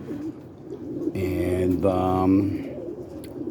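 Pigeons coo close by, a lavender Rickme cockbird and hen among them, with a couple of low rolling coos in the middle and a brief voice in the background.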